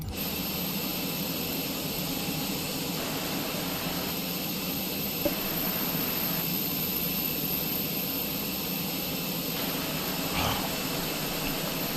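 In a flight simulator, the IAE jet engines of an Airbus A320 produce a steady, loud whine and drone with sustained tonal hums that hold evenly throughout, with no voices.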